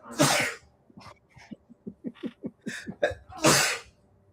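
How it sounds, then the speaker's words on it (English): A loud sneeze, then a series of short rhythmic breathy catches and sniffs, ending in a second forceful sneeze, close by with no talking. "as I am about to sneeze"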